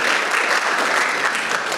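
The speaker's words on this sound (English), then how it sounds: "Big round of applause" An indoor audience at a museum panel talk breaks into dense, loud, sustained applause that continues evenly throughout.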